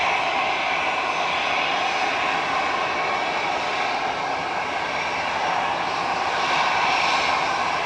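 An Airbus A380 comes in to land at Manchester Airport, its engines a loud, steady broadband roar that holds constant throughout with no talk.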